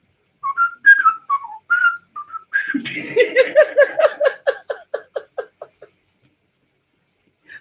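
A man whistles a TV theme tune, a string of short melodic phrases, then chuckles through a run of rhythmic bursts before falling silent; close and clear.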